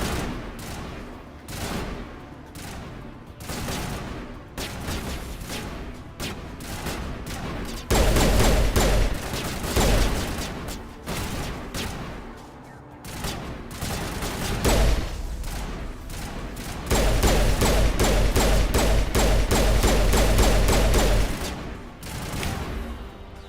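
Rapid bursts of automatic gunfire in the sci-fi shooter game Mass Effect, loud, dense volleys with heavy low thumps that come and go in waves over a long stretch.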